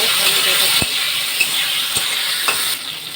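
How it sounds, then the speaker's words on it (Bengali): Potato pieces and cauliflower stalks fry in hot oil with a loud, continuous sizzle, broken by a few sharp scrapes and taps of a spoon stirring the pan. "ভাজা হোক আলু ডাঁটাটা।"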